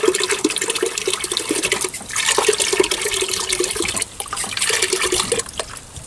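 Water rushes and gurgles as a plugged car heater core is flushed, a loud, close, continuous splashing flow with a couple of brief dips and surges.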